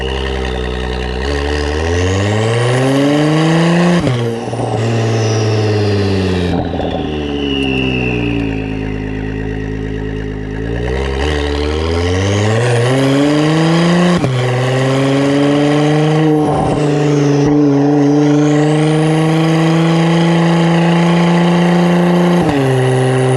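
A 2017 Honda NSX driven hard in Sport Plus mode, its engine loud and close, revving up through repeated gears with rising pitch, brief dips at each shift, then pulling hard again, with no talk.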